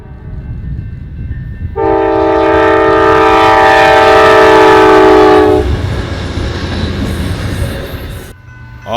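A freight or passenger train sounds a long, loud blaring horn at a railroad crossing in Rosenberg, Texas, near the railroad museum, holding for several seconds before fading into the rumble of passing rail cars.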